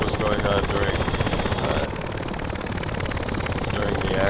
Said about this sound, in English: Here you've seen the KA-50 just doing some flybys.